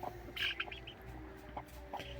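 A broody hen gives a few soft, low clucks nearby amid quiet outdoor background, with short irregular calls spaced over a couple of seconds.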